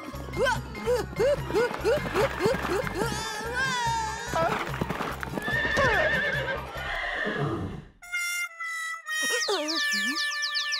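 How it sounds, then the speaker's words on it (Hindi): A cartoon racehorse neighing loudly after being struck by a car, a long whinny over busy animated effects and clip-clop, then a short silence and more whistling cartoon sound effects. "बंटी ने घोड़े को टक्कर मारी"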